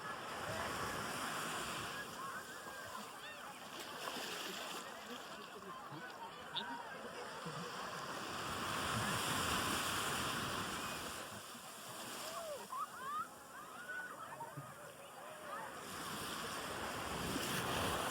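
Sea waves roll in at Eden Beach, Pondicherry, a soft, continuous surf wash that swells and eases under light wind on a sunny shore.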